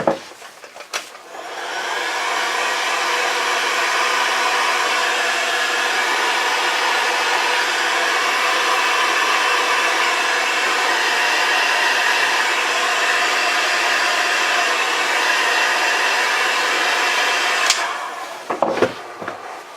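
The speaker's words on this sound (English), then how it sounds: "I'm going to gently whack it down with the heat gun" A heat gun blowing steadily on a braided cable for a headlight wiring harness, a loud, even whooshing hiss that runs unbroken for about sixteen seconds, with short handling clicks before and after.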